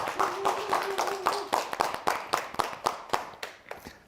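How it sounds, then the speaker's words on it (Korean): A studio audience claps for a lecture on insomnia at a Korean television broadcast. The clapping is brisk and fairly close, then thins into a few separate, evenly spaced claps that fade out. No one speaks. "박수로 들어볼까요?"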